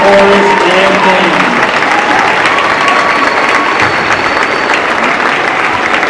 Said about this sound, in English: we have another round of applause for all of our performers today, orchestra, chorus, and band.